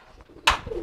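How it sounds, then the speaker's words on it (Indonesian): A crested kolong pigeon gives a single short, low coo right after a sharp brief rustle, heard close by at moderate volume. "Nah ini merpati kolong saya"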